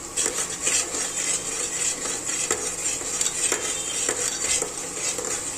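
Onion-garlic paste fries in hot oil for pav bhaji, with a steady bright sizzle and a spoon scraping and stirring against the pan throughout, close and continuous with no talking.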